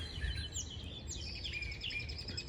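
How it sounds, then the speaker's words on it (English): Several birds chirp outdoors with quick, repeated tweets and trills at moderate distance over a low background rumble; no voices. "But I'm getting all these birds chirping over here"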